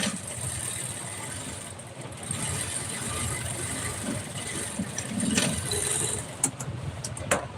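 Domestic sewing machine sewing a final stitch while tailoring ladies' clothing with thread piping, a steady mechanical whir running throughout at close range, with no voices.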